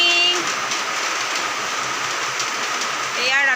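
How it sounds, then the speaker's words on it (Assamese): Rain falls steadily outdoors on a cloudy morning, an even broadband patter and wash that fills the whole stretch, with faint brief chirps near the start and end. "এতিয়ালৈকে বৰষুণ দি আছে"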